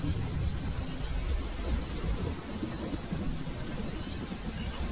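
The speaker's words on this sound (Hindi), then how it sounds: "बारिश अभी भी लगातार हो रही है।" Heavy rain pours steadily over a truck travelling along a deserted road, a dense, even hiss that fills the whole stretch without letting up.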